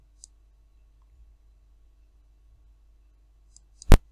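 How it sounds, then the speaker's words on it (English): A single sharp computer mouse click near the end, loud and close, preceded by a few tiny faint ticks over an otherwise silent background. "click on this link here"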